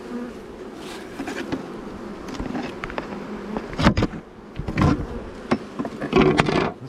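A dense hum of bees buzzes around an open beehive, close and continuous, with individual insects droning louder as they pass near, and no voices.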